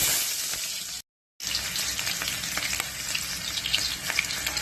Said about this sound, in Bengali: তেলটা গরম হয়ে গেছে, এখানে আমি কিছুটা অনিয়ন চপ করে রেখেছিলাম, সেগুলি প্রথমে দিয়ে দেব।